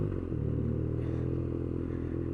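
A 2017 BMW R NineT Urban G/S scrambler on knobbly tyres rides along a dry road, its engine giving a steady low drone mixed with wind rush. The sound is close and continuous, with no gear changes or speech.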